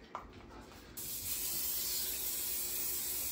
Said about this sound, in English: I'm going to add some spray, extra virgin olive oil.